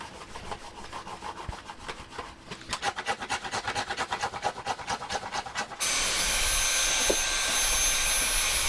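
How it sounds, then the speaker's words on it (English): Rhythmic back-and-forth scratching strokes rough up a surface up close, then a loud, steady vacuum cleaner roar takes over the last few seconds. "And it's this side that I want to scratch up."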